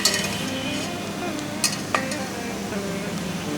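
Naga chilies and dried red chilies fry in oil for mango pickle, giving a steady close sizzle with a few sharp clinks of a stirring utensil against the pan.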